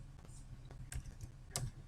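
Quiet clicks of typing on a computer keyboard while entering data into an Excel spreadsheet, a few scattered keystrokes with one sharper tap near the end, faint against a low room hum.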